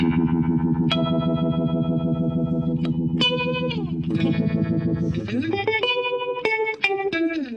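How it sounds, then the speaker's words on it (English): Electric guitar played through a Keeley pedal set to U-vibe, with compression kept on, giving sustained chords and sliding notes with a swirling, warbling modulation, loud and upfront throughout. "So this is on U vibe."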